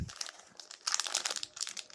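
The crinkly plastic wrapper of a One Piece trading card game booster pack is torn open by hand without scissors, giving close, quiet bursts of crackling and rustling that come in quick uneven clusters.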